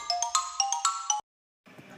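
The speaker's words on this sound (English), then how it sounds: "X for xylophone. Phone with sticks. The notes are short and quick." Quick, short xylophone notes struck with sticks, about seven bright bell-like tones in a brisk run, then a pause before a softer sound.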